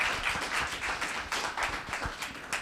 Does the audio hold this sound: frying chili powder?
no